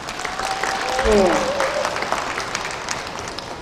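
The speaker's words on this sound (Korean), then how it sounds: "박수 한번 주십시오." An audience claps steadily throughout at the first Daegu–Gyeongbuk housewives' trot singing contest, the applause filling the hall with a brief voice heard under it.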